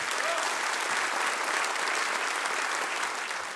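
Thick, continuous applause from a concert audience in a hall at the Miklavž concert, loud and sustained from start to finish with barely any variation.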